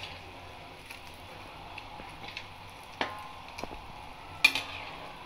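Kuih bom bijan, sesame balls, frying in hot oil with a quiet steady sizzle, broken by a few soft clicks and one sharper scrape as they are turned over in the pan.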